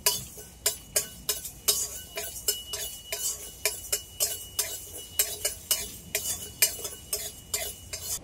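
Whole dried red chillies and whole coriander seeds dry-roasting in a karai, with a steady run of crisp clicks and scrapes as they are stirred and tossed, close and moderately loud, with no talking.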